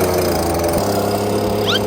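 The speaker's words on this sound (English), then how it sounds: "I'm starting off obviously by blowing all these pine needles and stuff off my roof" A leaf blower roars loud and steady while clearing pine needles off a roof, with a constant engine drone and no talk.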